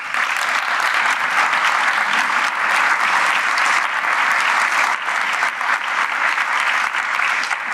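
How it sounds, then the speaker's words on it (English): Sustained, dense applause from a conference audience fills the room evenly and loudly from start to finish, a steady wash of many hands clapping with no pauses. "No, I think it was an applause for you."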